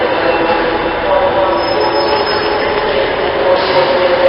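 A Class 314 electric train passes close by in a steady loud rumble of wheels and carriages, with faint squealing tones and a brief horn-like note near the end.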